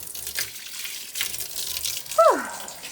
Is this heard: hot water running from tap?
yes